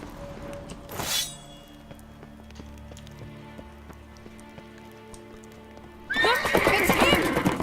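A horse in the video game The Witcher lets out a sharp whinny near the start, then a louder burst of neighing and hoofbeats at the end, with game music and rain in between.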